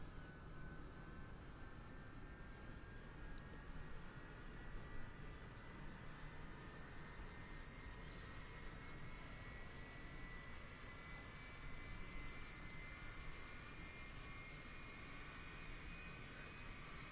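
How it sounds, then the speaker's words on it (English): MD-11 jet engines in Microsoft Flight Simulator spool up with a steady, rising whine over a broad rushing roar, heard continuously and fairly faint, with no talking. "So let us start the engines and see how it sounds."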